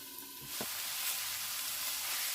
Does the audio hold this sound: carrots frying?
yes